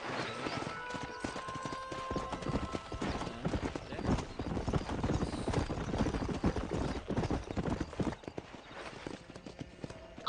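Horse hooves clip-clop at a gallop in the Red Dead Redemption video game, a fast, dense drumming under a constant wash of game sound, with a brief whinny near the start.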